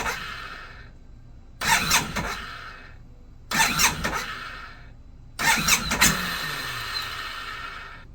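A Suzuki Burgman 650 K3 scooter engine cranks and fires three times in quick succession, each run lasting about a second before being switched off, the last catch running a little longer and fading out, heard close with no talk.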